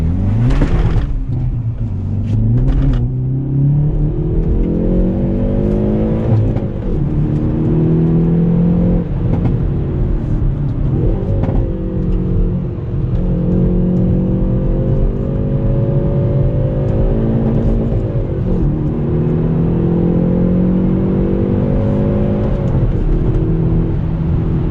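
Hyundai Veloster N Performance Package hot hatch in N mode with rev match, its engine revving hard on a track, loud and up close, climbing through the gears with repeated rises and shifts and no talking.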